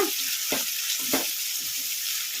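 Tomato fries on a medium flame in a pan for a soya chunks curry, giving a steady, close sizzle with a couple of soft stirring scrapes.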